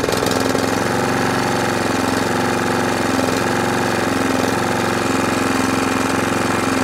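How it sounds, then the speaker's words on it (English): A Qualcast 35S cylinder lawn mower's petrol engine idles steadily and loudly up close, with a constant rapid chugging putter and no pauses. "Idles well too."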